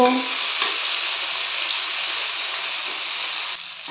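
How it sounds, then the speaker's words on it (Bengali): Prawns fry in hot oil in a pan over a medium-high gas flame, a loud, steady sizzle that holds close and even for the whole stretch with no talking. "গ্যাসের ফ্লেম মিডিয়াম টু হাইতে দিয়ে আমি চিংড়ি মাছগুলো সব ভেজে নেব।"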